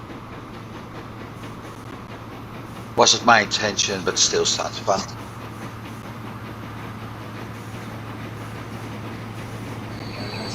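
A grain train runs in the video game Transport Fever 2, a steady low mechanical rumble with a faint tonal hum that persists throughout, while a person talks briefly partway through.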